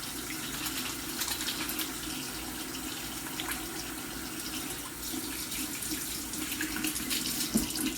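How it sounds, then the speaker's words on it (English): Tap water runs steadily into a sink for hand washing before cooking with children, a continuous close gushing stream with no talk over it. "We always have to wash our hands before we touch any of our food."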